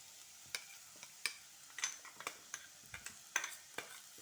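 Ground masala paste frying with onions in a pan for lunchbox masala rice, a soft low sizzle beneath a dozen sharp spoon clicks and scrapes against the pan.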